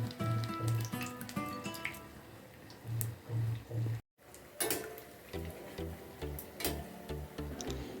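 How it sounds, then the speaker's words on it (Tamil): Mysore bonda dumplings frying in hot oil, a soft steady sizzle with scattered ticks and pops, broken by a brief silent gap midway. "போண்டாவாக போட்டு பொறிச்சு எடுத்துக்கலாம்"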